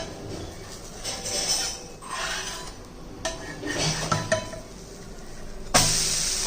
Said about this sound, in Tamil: இப்போ நம்ம இதை திருப்பி போட்டுக்குவோம்.